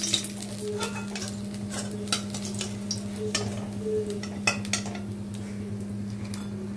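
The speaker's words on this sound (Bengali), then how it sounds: "মাছ ভাজা রেডি হয়ে গেছে, এবার তুলে নেবো এক এক করে" Fish sizzles and fries steadily in a hot pan, with clinks and scrapes of a utensil against metal as pieces are lifted out one at a time; no talking.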